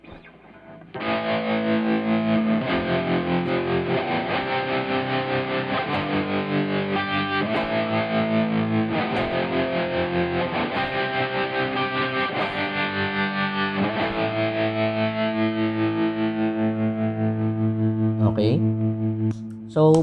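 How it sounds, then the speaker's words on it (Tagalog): Electric guitar run through a Tank-G effects unit with distortion switched on, part of a hybrid pedal setup, holding long, thick distorted chords that ring loud and close for about twenty seconds before a brief pickup noise at the end. "Ito naman pag may distortion."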